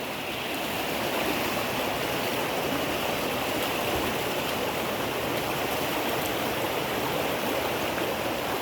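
Pennaiyar river floodwater on a rainy day, released from the dam and rushing under a bridge in a loud, steady broadband roar that holds unbroken from start to finish, with no voices.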